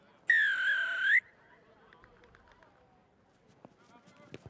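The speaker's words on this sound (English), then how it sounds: "assisted by Johnny Perriam and Rog McDowell, blows a whistle to get the game underway." Referee's whistle opening a rugby union match, one loud sustained shrill blast lasting about a second, followed by faint crowd and field noise.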